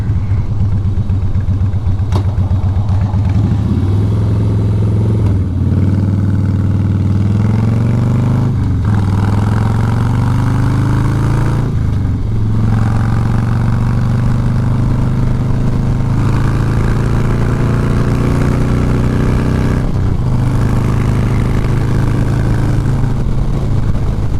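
A Harley motorcycle engine runs while riding onto an interstate, a loud, continuous rumble that rises in pitch through several gear changes, with steady wind noise and no talk.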